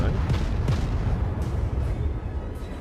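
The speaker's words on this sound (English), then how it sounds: "might as well fire some HE and try and set the Graf Spee on fire" Heavy naval guns firing high-explosive shells in World of Warships, a steady low rumbling roar with several deep booms and sharp bursts spread across the clip, loud and close, with no talk.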